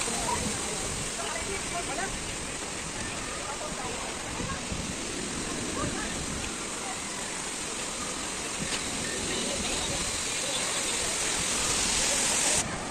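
Wave pool water at Meryal water park rushes in a broad, steady roar with splashing, heard close and loud, and voices can be heard faintly in the background.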